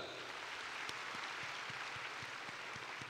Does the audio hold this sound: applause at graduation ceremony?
yes